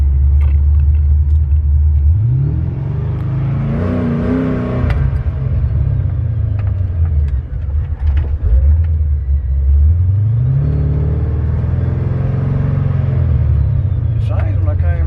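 A car engine rumbling close by, revving up in two long rising surges separated by a lull, deep and loud throughout, with someone talking over it.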